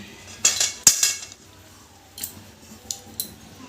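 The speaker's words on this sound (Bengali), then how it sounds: "মা আবার গামলাটা ধরে নাড়িয়ে ঝাড়িয়ে দিচ্ছে, যাতে মাছগুলো আরো সুন্দর করে পাতিয়ে পড়ে।" A metal bowl of cooked Bhola fish curry is held and shaken, giving a couple of sharp clattering metallic jolts up close, then quieter scattered clinks after a pause.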